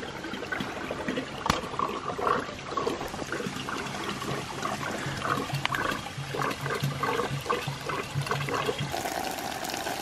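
Water overflows from a bucket while a pump runs at an off-grid water tower, giving a steady, continuous close splashing and trickling rush that holds evenly throughout, with no talk.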